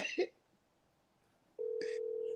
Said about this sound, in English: Can y'all hear the phone ringing?